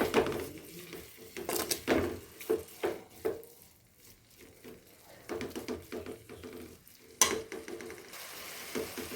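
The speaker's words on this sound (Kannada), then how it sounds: "ನೋಡಿ ಫ್ರೆಂಡ್ಸ್ ಇದು ಚೆನ್ನಾಗಿ ಫ್ರೈ ಆಗ್ತಾ ಇರಲಿ" Tomato masala fries in a pan with a continuous sizzle, broken by repeated scraping and clinking stirs of a spoon against the pan.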